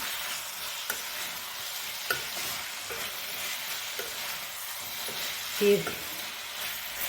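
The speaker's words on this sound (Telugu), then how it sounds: "ఫ్రై అయిపోతే కొంచెం హైలో పెట్టుకుని ఫ్రై చేసేసుకున్నాం" Cauliflower frying on high heat in a pan, a steady broadband sizzle with occasional stirring scrapes and a brief louder clink near the end, no talking.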